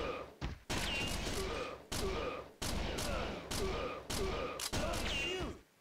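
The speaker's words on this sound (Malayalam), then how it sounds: "ഞാനെപ്പോഴും ഫയർ ചെയ്യും റീലോഡ് ചെയ്യും, ഫയർ ചെയ്യും റീലോഡ് ചെയ്യും." Rapid gunfire bursts from the arcade shooter Virtual Cop 2 repeat in a steady rhythm, roughly one volley every half second to second, loud and punchy, with game sounds ringing between them.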